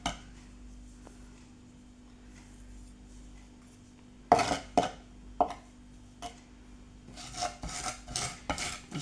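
A knife mashes garlic with salt against a chopping board, scraping and grinding in short gritty strokes, several rasps in irregular bursts after a quiet stretch.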